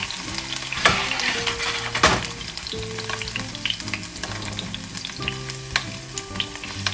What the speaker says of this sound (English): You're just trying to golden brown it like that.